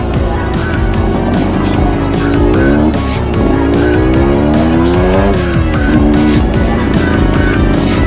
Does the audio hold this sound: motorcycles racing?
yes